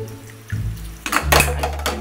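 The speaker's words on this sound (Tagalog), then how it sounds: "Tapos, lalagay na konting tubig." A little water is poured into a pot of chicken menudo, giving short close splashes and sizzling bursts against a low cooking hum over about two seconds.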